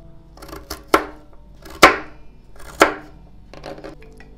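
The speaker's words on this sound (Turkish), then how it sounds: "patates ve havucumu küçük küpler halinde doğradım" A knife chops potatoes and carrots into small cubes, with three sharp, close strikes about a second apart and lighter taps between and after them.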